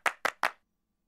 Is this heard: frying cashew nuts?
no